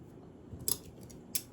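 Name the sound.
scissors cutting off extra string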